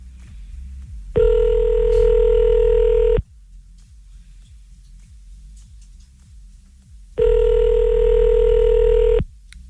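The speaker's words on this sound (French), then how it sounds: "On appelle au Canada pour que ça décroche plus facilement" A telephone call placed to Canada rings in two long, loud tones of about two seconds each, separated by a quieter pause of roughly four seconds.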